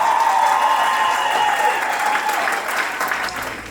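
Wedding guests applauding, a dense sustained burst of many hands clapping that fades slightly toward the end, with faint talk beneath.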